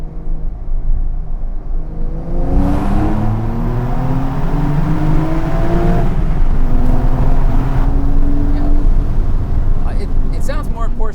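Porsche 992 Carrera T pulling hard in second gear inside a tunnel, heard from the cabin as a loud rising engine rasp that climbs in pitch and holds, with a voice over part of it.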